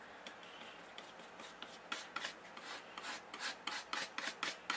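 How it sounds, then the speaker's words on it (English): Paste is scraped up off a surface in short, repeated raspy strokes, close and quiet, growing slightly stronger and more rhythmic toward the end. "I scrape that up as much as I can."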